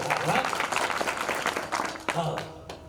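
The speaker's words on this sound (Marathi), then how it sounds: "तुम्ही टाळी वाजून द्या त्याच्या नावाची" A kirtan audience claps together in a brief burst of applause at a religious gathering, dense and fairly close, with voices mixed in before it tapers off.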